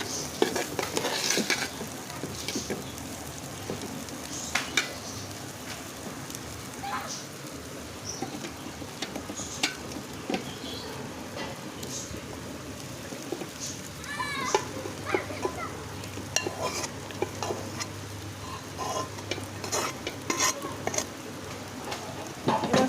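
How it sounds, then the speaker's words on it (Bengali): Chicken pieces and fried rice being stirred together in a pot for chicken tehari, a steady scraping and sizzling under a continuous frying hiss, close and moderately loud throughout with no talk. "সমস্ত উপকরণ একসঙ্গে ভালো করে মিশিয়ে নিচ্ছি"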